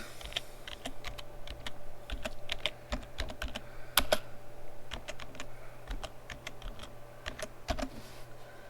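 Rapid keystrokes on a computer keyboard, irregular clicking taps in quick bursts with a few louder key hits, close and clear over a steady low background hum.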